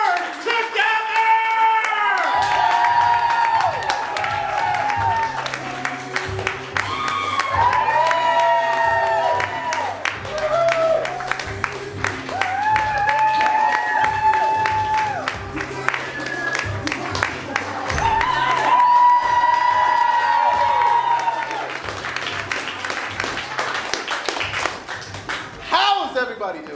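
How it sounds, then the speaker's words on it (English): An improv comedy show audience applauds and cheers in repeated bursts of clapping and whoops, heard under someone talking loudly over a PA throughout. "Get your hands clapping."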